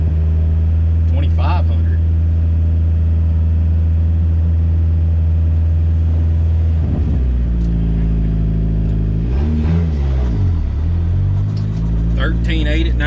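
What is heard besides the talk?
turbo Dodge Caravan engine idling high and fluctuating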